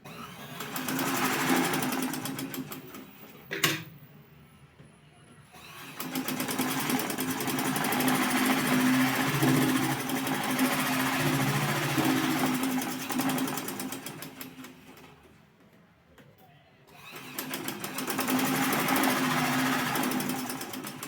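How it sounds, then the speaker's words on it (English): A sewing machine stitching a fabric top seam runs in long steady buzzing bursts, close and clear, stopping briefly twice before starting up again. "We are going to go ahead and sew the second one."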